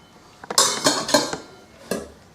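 Steamed rice served from a pot into a dish: a handful of clinks and scrapes of a utensil against the pot and dish, close and irregular, with quiet gaps between.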